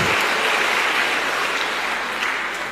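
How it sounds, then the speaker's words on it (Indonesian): Audience applause at a Catholic talk on family life honours three people who won rosaries: a dense, even wash of clapping sustained at steady volume with no voices. "Tepuk tangan untuk 3 orang yang dapat rosario ini"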